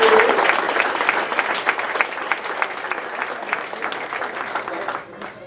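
A graduation audience applauds honored guests in a steady wash of clapping that holds for about five seconds and then drops off sharply near the end.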